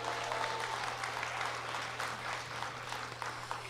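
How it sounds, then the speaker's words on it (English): An audience applauds at an English In Action: Immigrant Voices 2025 event, a steady, moderately distant wash of clapping held at an even level over a low hum, with no talk. "Please give them a round of applause."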